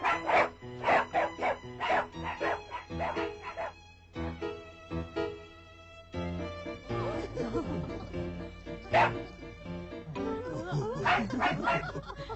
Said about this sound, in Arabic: أيتها الكلاب، اقبضي على ذلك اللص.